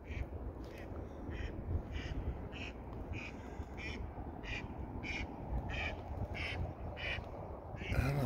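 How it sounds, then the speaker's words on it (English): Ducks quacking on Devil's Lake, with repeated short calls rising over a steady broadband wash of wind or water noise at moderate distance. "I think that was those regular ducks."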